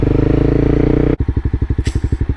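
A motorcycle engine rumbles steadily, then shifts into a rapid, loud rhythmic chugging of pulses, close up, with a brief hiss partway through.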